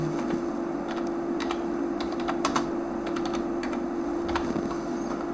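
Steady typing on a computer keyboard while entering details into an online exam application form, close and clear, with quick irregular key clicks over a constant low electrical hum and no talking.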